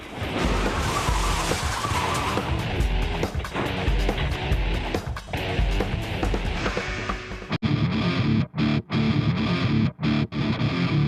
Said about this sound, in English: your stupid police colleague suddenly decides to ram the offending car slap bang into yours